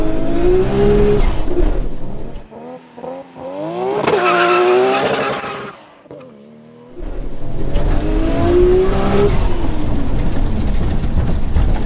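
A Nissan Skyline R34 GT-R launches from 0 to 60, its engine revving hard through rising gear pulls with brief dips at shifts, loud and close with no talk.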